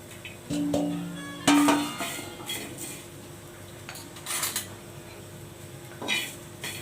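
Garlic cloves stirred on a hot iron griddle (tava): soft, intermittent clinks and scrapes of a utensil against the metal, with a few louder clatters near the start and no voices.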